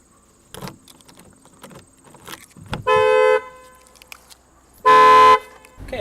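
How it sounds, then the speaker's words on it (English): A car alarm honks in two loud, sustained blasts inside a vehicle, mixed with key jingles and small clicks between them, no talking. "the alarm went off on me when I got in the car"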